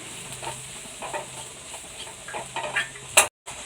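Spices stirred in a pan: sambar powder and coriander powder fry with a faint, steady sizzle while a utensil scrapes and stirs in short strokes, ending in a sharper clatter before a brief silence.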